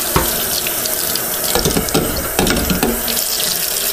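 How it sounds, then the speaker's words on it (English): Hot water pours from a tap into a thermos, a steady splashing hiss with gurgling bursts as the flow shifts, close and loud with no talking. "So we're going to run a little hot water in here."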